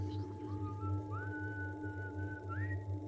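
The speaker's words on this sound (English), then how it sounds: "The whistling." A person whistles a wavering, sliding tune over a steady low hum, with rising upward swoops near the end.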